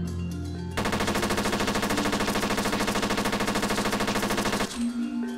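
Rapid automatic gunfire from the video game Infectious Smile rattles out in one loud, unbroken burst lasting about four seconds, with game background sounds before and after it.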